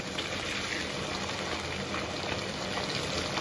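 Crucian carp fries in a hot pan, producing a loud, dense, unbroken sizzle close by, with no speech over it.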